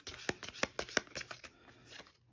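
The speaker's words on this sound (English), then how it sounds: "I've got to get my objective cards again and shuffle these up" A small deck of objective cards for the Ju 87 Stuka Ace board game being shuffled by hand, a quick run of soft riffling snaps that thins to faint rustling, close and quiet with no talk.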